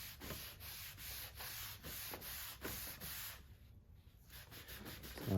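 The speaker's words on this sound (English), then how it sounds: "And you could just lightly wipe this." A lint-free cloth rubs wood stain off a wooden surface in steady, close back-and-forth strokes, a soft continuous scrubbing that pauses briefly near the end.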